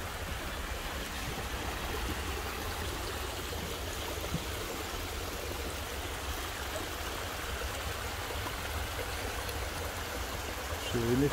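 Steady, broad rush of spring water flowing out of a hillside, continuous and fairly close, with a faint breezy hiss throughout.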